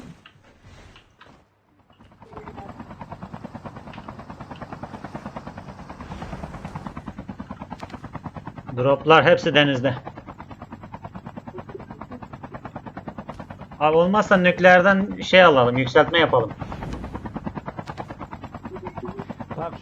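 Helicopter rotor drone in the mobile shooter game Call of Duty Mobile, a continuous low whir with a steady pulsing texture that runs under two gamers chatting over voice comms in Turkish.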